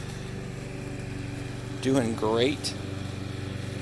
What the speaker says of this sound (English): I apologize for the lawnmower noise in the background.